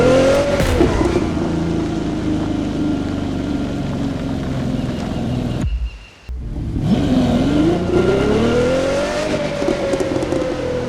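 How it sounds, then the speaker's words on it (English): A car engine in the racing video game The Crew 2 roars loud and continuous, the pitch sliding and climbing with gear changes, broken by a brief near-silent cut before revving back up. "I hope you guys enjoyed the excessive amounts of engine noise that I allowed you to hear this time round"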